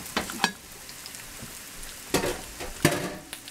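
Two cherry burritos (chimichangas) frying in hot oil: a soft continuous sizzle broken by a few sharp crackling bursts and spatters, close and fairly loud, with no voices.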